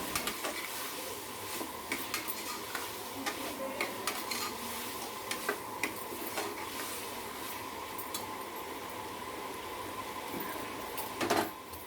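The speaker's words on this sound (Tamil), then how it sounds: "இதை சேர்த்து நல்லா வந்து கொஞ்சம் வதக்கி விடணும்" Ingredients for white kurma sautéing in a pan, a steady soft sizzle with scattered clinks and stirring scrapes, close and alone with no talk.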